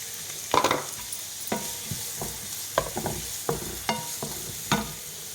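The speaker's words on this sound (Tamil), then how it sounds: "வெங்காயம் வந்து இன்னும் கொஞ்சம் வதங்கி வரணும்." Onions sizzle softly in hot oil in a pan for chicken fried rice, with occasional scrapes and stirring clicks of a spoon against the metal.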